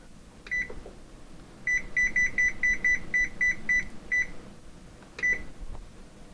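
An oven being set to preheat to 300 degrees: a single beep, then a quick run of about a dozen evenly spaced electronic beeps, then one more beep, clear and close over faint room noise.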